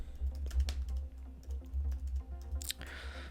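Fingers type a short line of text on a computer keyboard, a quick, close run of soft key taps ending in a sharper keystroke.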